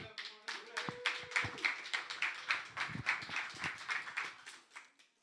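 Loud, sustained applause from an audience at a community meeting on violence, many hands clapping densely and close by for several seconds.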